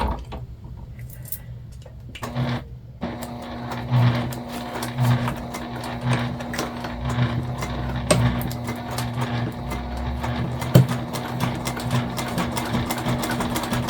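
A sewing machine stitches along a sling bag pocket, a continuous close mechanical whir with a rapid needle rhythm and a few louder knocks, running steadily throughout.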